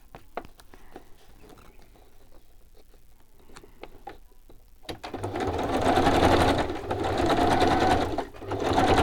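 A sewing machine zigzag-stitches a fabric piece. A few soft taps come first, then the motor starts loud and close with a fast, continuous mechanical chatter that runs to the end.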